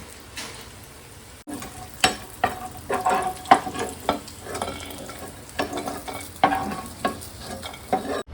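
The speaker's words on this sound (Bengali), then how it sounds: "এবার এই তেলে আমি বড়িটা ভেজে তুলে নেব।" Dried lentil dumplings (bori) crackling and sizzling in hot oil, with irregular pops and spatters and light stirring clatter, close and fairly lively, no talking.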